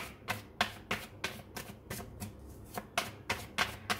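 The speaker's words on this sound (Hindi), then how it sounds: "चलिए टैरोट से कुछ कार्ड्स निकालते हैं" Tarot cards being shuffled and drawn in a quiet room, with rapid papery riffles and taps coming in an uneven rhythm about every third of a second, close and soft.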